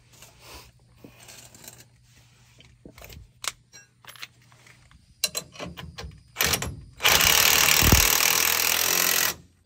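A nut is run onto the bottom shock bolt during a six-inch lift kit install on a 2022 Ram truck. Scattered metallic clicks and ratcheting come first, then a loud, sustained burst of mechanical whirring, likely a power tool, close by.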